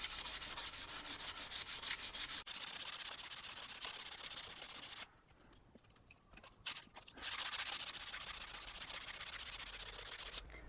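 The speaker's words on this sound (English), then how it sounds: "Put it on a bit of wood's the easiest. That saves you sanding off the bench top or whatever." Sandpaper wrapped on a block of wood rubs back and forth in quick, even strokes, a close, rasping scratch that pauses briefly in the middle before the sanding resumes.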